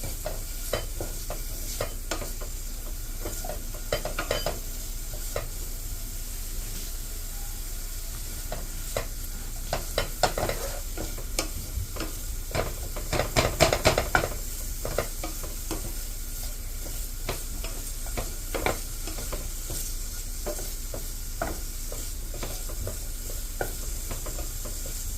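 Vegetables stir-fry in a hot pan for Thai basil fried rice: a continuous loud sizzle and hiss with frequent scraping stirs, building briefly in the middle, with no talking.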